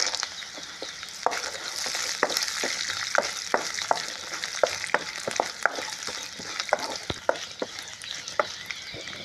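Green chillies, onions and peanuts fry in hot oil for Karasa Noka, a continuous sizzle with frequent sharp crackles and pops close by.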